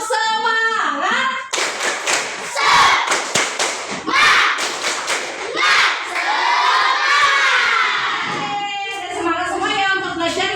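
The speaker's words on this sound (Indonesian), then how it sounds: "1, 2, 3, tepuk semangat." Schoolchildren in a classroom shout together, then clap a quick patterned spirit clap in unison, a cluster of sharp rhythmic claps, before rising into a loud group cheer with their teacher's voice.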